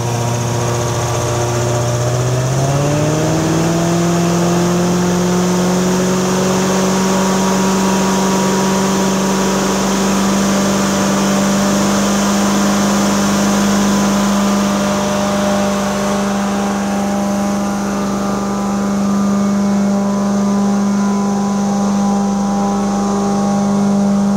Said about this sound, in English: We're going to go ahead and increase our RPM by using our 4 fingers